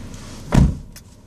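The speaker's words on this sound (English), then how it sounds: "She's coming in the car right now." A car arrives, and one dull, fairly loud thump of its door closing is followed by a faint brief whir, with no talking.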